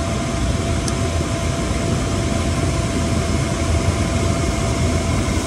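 A Chinese diesel heater with an intermittent shut-down fault runs with a loud, steady, unbroken roar and hum that continues without stopping, and nobody speaks.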